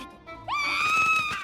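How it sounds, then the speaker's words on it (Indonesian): A person screams in an anime zombie scene, a rising high-pitched cry that breaks out after a moment of quieter sound and holds, loud and sustained, for about a second. "Di sisi lain terdengar suara orang yang menjerit."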